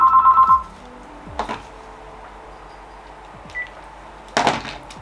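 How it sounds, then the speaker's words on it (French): A home telephone rings briefly with a short electronic tone at the start, followed by scattered faint clicks and knocks in a quiet room, one louder clatter near the end. "désolée, c'était le téléphone de chez moi."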